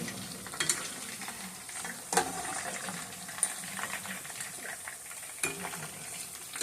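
Battered shrimp frying in hot oil, a dense continuous crackling sizzle with several sharp spattering pops and bursts spread across the clip, close and fairly loud, no talk.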